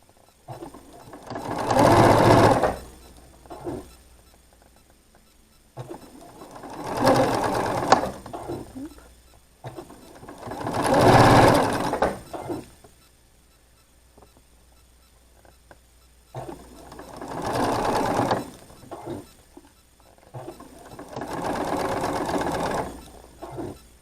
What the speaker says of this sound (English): And then we'll sew all of these on both sides.